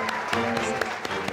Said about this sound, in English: Let's have a nice round of applause for the new Mr.